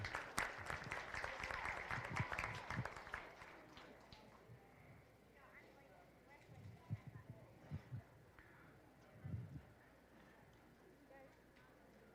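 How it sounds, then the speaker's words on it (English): A crowd at a county beef show applauds the showmanship champions, a loud round of clapping that fades out after a few seconds, with scattered low thumps and a voice speaking afterward. "Let's give him one more big round of applause"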